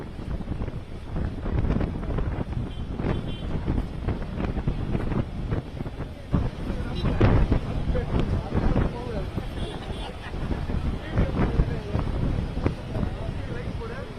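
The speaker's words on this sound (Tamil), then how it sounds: "புயல் கரையை கடக்கும்போது பட்டினப்பாக்கம் லூப் சாலையில் புழுதி புயல் போல கடற்கரை மணலை சூறாவளி காற்று விசிறி அடித்தது." Cyclone winds whip beach sand across Pattinapakkam Loop Road, a steady, rough roar of gusts buffeting the microphone with continuous broadband rushing that swells and dips slightly throughout.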